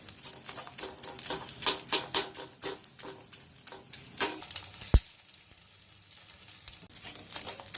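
Gond (edible gum) frying in ghee, sizzling and popping with a busy crackle of many small bursts, including one sharp louder pop midway, followed by a quieter, steadier sizzle.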